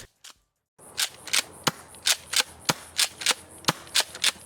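An airsoft Jaguar scattergun running on green gas fires about eleven sharp, close shots in an uneven, fairly quick rhythm, each a crisp pop with a gassy hiss, after a couple of faint clicks and a brief silence.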